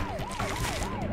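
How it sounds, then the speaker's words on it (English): An ambulance siren from Spider-Man: Web of Shadows wails in fast, regular up-and-down sweeps over a busy game background, moderately loud and continuous. "Gotta swing through the boxes or you're not following the ambulance"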